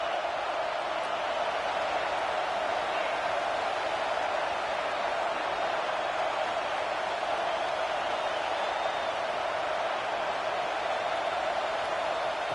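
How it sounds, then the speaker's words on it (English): Football stadium crowd at a Clemson vs Auburn game roaring steadily on third down, a dense, continuous wash of cheering noise that holds at an even level throughout without pauses. "Third down, and the crowd really getting into it."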